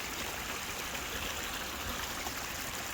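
Water running steadily through a GEOSLUICE Californian Mini plastic gold sluice, a constant broadband rush and trickle held close and fairly loud for the whole stretch, with no voices.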